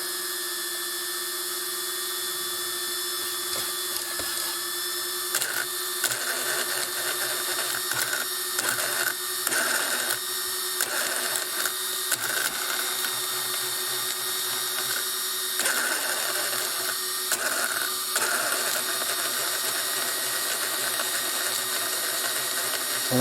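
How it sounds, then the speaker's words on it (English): Electric Hobao Hyper7 RC car with a LiPo battery fitted: the motor and cooling fans whir steadily with a high tonal whine, broken by repeated short stutters and surges as the motor spins up and cuts in and out, close and fairly loud. "Fans are working."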